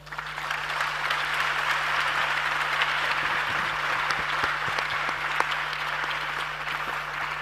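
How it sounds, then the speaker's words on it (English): Steady round of applause from an audience at a Ghana youth dialogue session, sustained and fairly even throughout with a constant low hum underneath. "let's hear a round of applause for our"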